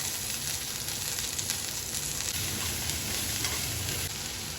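Cooked cluster beans frying in a pan with spices, a steady, even sizzle and hiss running throughout at moderate volume, with no talk.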